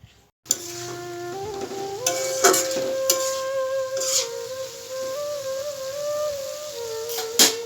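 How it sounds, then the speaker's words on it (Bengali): A vegetable bhaji sizzles and fries in a pan while it is stirred, with scraping and clinking against the pan over a steady hiss. A wavering tonal sound runs underneath throughout. "এদিকে বাজিটা নেড়ে ছেড়ে দিচ্ছি"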